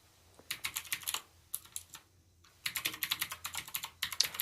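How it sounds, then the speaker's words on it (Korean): Korean text is typed quickly on a computer keyboard, producing close, soft clustered key clicks in bursts with short pauses between them, alone and at low volume. "그래서 이걸 이용해서 텍스트를 한번 입력을 해볼 겁니다."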